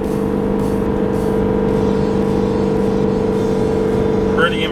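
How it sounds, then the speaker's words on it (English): Ford F-450 Super Duty King Ring 2020 diesel pickup with 10-speed transmission engine braking while towing down a hill at just over 80, a steady loud drone with a constant low hum throughout and brief speech-like sounds near the end. "I must say I'm pretty happy with the engine brake in this truck."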